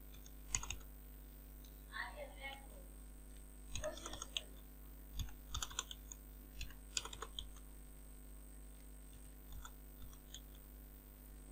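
Numbers are typed into an Excel data table on a computer keyboard: scattered light key clicks in short bursts, quiet and close, over a steady low electrical hum.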